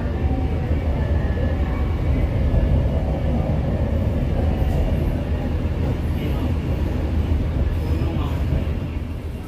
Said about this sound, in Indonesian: Kereta api komuter yang saya naiki saat ini sudah tiba dan berhenti di stasiun Indro.